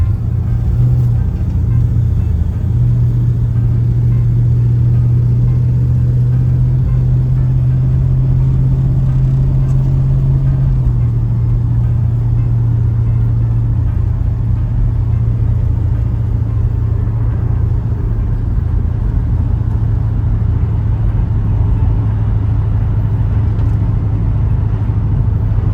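A 1965 Ford Mustang convertible cruising around the block, its engine a steady, close low rumble with a slight shift in pitch partway through, no voices over it.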